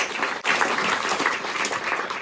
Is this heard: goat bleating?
no